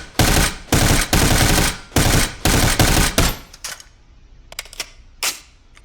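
An M16 rifle fires in burst mode, with about six loud, sharp bursts of rapid shots close by, followed by a few scattered single cracks and echo.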